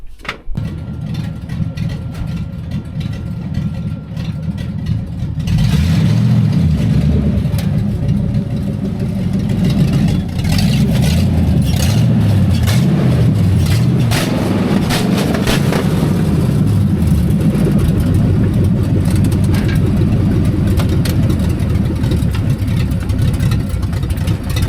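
A 1992 Foxbody car with a loose exhaust cranks briefly, fires up after about five seconds, and settles into a loud, steady, rough idle with a deep rumble and a rattling undertone, close to the listener with no talk.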